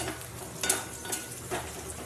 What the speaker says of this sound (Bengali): পেঁয়াজটা একটু লাল লাল করে ভাজা হলে আমি মাংস মশলাটা দিয়ে দেবো